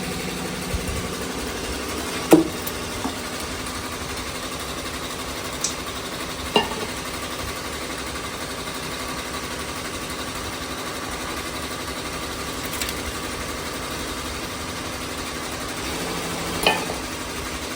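An electric beater churns refrigerated cream in a bowl to make ghee, giving a constant, faint motor hum with a few soft clinks from the bowl.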